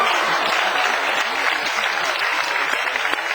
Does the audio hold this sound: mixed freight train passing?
no